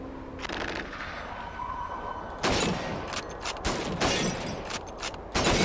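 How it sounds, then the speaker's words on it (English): Rifle gunshots fire at a shooting range in the video game Call of Duty 2, loud sharp reports arriving in an irregular series of about five shots over a low background drone. "Shoot those bottles and plates."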